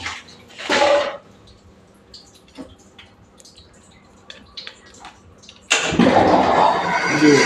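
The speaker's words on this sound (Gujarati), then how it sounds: "હવે આપણે મોટર બંધ કરી નાખવી" Water gushes and splashes from a farm well pump outlet, loud and close, with a burst at the start and heavy flow resuming near the end, quieter drips and small knocks between.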